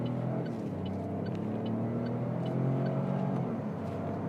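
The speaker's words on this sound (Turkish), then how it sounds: "Yapıştırdım. 0-100'e bakalım kaç çıkacak." A Citroen C3 Aircross hybrid with a six-speed dual-clutch gearbox and integrated electric motor accelerates hard from a standstill in a 0-100 run, giving a steady rumbling engine drone and road noise heard from inside the cabin, with no talk.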